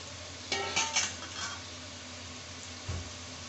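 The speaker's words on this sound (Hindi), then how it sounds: "ये जो टमाटर, हरी मिर्ची और अदरक काटा था, ये मैं डाल दूंगी।" Chopped tomatoes, green chilli and ginger tipped into a cooking pan for chicken pulao, giving a short cluster of clattering, sizzling bursts near the start and one brief knock toward the end, with no talking.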